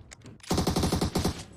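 Rapid burst-fire gunshots from a weapon in an online battle royale shooter game: several tight volleys of sharp, loud shots fired in quick succession, close up, with no talking over them.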